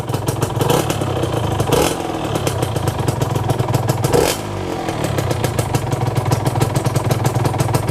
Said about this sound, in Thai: เสียง TZR มันจะเป็นเอกลักษณ์ของมันมาก